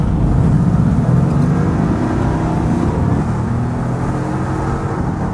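A Mercedes-AMG GT S engine drones loud and steady close by throughout, a continuous low rumble with mild rises in revs and no talking over it.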